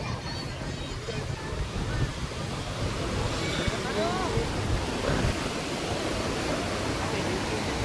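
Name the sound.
sea waves at the shore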